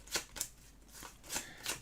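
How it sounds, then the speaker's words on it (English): Cards from the board game The Maiden in the Forest being shuffled by hand, a series of quick crisp riffling bursts at close range, with no talk. "let's shuffle these up again"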